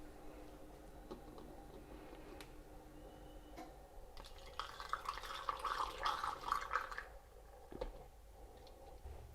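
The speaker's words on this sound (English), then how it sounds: "pour this mixture into this glass jar and then seal it up" Hot nasturtium jelly mixture is poured into a glass jar in a quiet kitchen, a soft liquid stream rising for a few seconds midway among faint clinks and drips.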